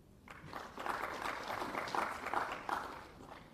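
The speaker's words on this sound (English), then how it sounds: "I want you to clap for yourselves" An audience at an agribusiness fruit expo launch in Uganda claps together in a sustained, fairly distant burst of applause lasting several seconds, with no voices over it.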